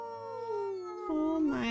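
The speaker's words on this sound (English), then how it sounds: "Guys doing your first howl." A wolf pup's first howl in the video game WolfQuest, a thin, wavering tone that slides downward and then rises again into a brief second cry, quiet and alone.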